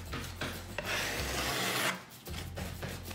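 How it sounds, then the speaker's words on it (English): Sanding over filled seams on a kitchen countertop being prepared for a metallic epoxy coating, a close rough rasp in bursts with one longer sustained pass in the middle. "Now it's time to sand all the stuff we filled."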